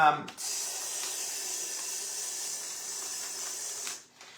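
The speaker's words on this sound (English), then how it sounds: "you can spray paint it, go just like that" A steady hiss of spray paint onto a paper bag snowflake runs for about four seconds, starting and stopping abruptly, close to the listener.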